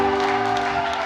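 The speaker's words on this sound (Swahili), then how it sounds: "Pigeni makofi." Wedding guests break into a quick round of clapping, heard only briefly over a steady tonal hum of music in the background.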